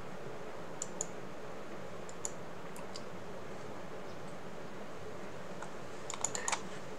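Sparse keystrokes on a computer keyboard while someone types a card name, with scattered single taps early on and a quicker burst of clicks near the end, faint over a quiet room hiss.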